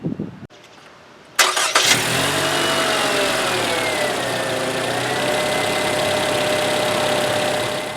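A 2016 Scion tC with a naturally aspirated four-cylinder engine cranks briefly, catches and settles into a steady, loud, close idle after a quiet moment.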